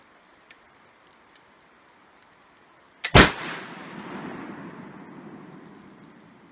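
A single sharp rifle shot from an 1832-style crescent butt plate rifle fires about midway, loud and close, with a long rumbling decay trailing off afterward against a quiet outdoor background.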